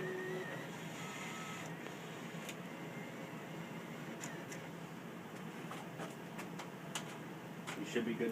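An IGT slot machine setting itself up after its door is closed: a steady mechanical whir and hum with scattered light clicks, which grows slightly louder near the end.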